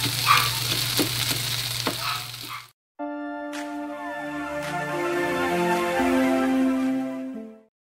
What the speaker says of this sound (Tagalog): Sizzling na siya.